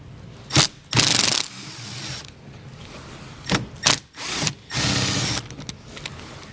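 A power driver with a T25 Torx bit backs screws out of the fender well of a 2017 Volvo V90, giving several short whirring bursts with quiet handling noise between them and no talking.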